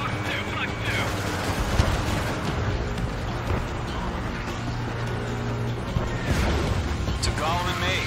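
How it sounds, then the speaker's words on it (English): A missile strikes a bomber in the Ace Combat 7 flight game, bringing dense, continuous rumbling blasts and gunfire-like bursts over a steady engine drone, with radio voices talking over the action. "Bomber hit by a missile."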